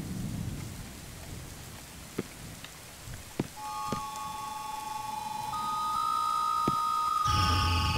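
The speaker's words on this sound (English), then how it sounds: "Damn, that rain is loud!" Heavy rain in a horror video game, a steady hiss of downpour with a few sharp clicks, followed by sustained electronic tones and a louder burst of rain toward the end.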